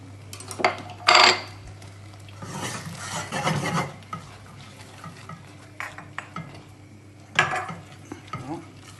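Butter being stirred into a seafood risotto off the heat, with a spoon scraping and clinking against the pot in irregular bursts, close and fairly loud, no talk.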